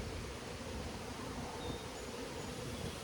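Honey bees hum around an apiary of some 45 to 50 hive colonies outdoors, a faint, continuous broadband buzz with no clear individual passes or other sounds.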